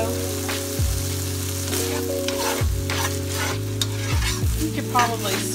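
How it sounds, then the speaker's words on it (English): Meat sears in a hot pan with a steady, close sizzle, joined by repeated scraping strokes and a low tonal hum that rises and falls in regular sweeps throughout. "Probably sear this just a little."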